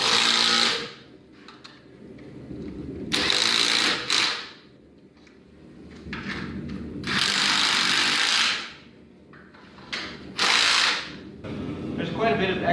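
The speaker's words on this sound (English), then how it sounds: "we're going to put some washers and nuts on each on this side, and we'll tighten it from both sides" A ratchet tightens nuts and washers onto threaded rods in a workbench frame, giving loud bursts of rapid clicking separated by short pauses as the handle swings back and forth.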